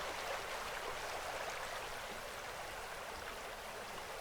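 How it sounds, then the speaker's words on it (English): A river flows through the Barle Valley on Exmoor, a steady, even rushing of water heard close and continuous, with no voices over it. "Next day we're at the Barle Valley, down at the river, which is just down from the hotel."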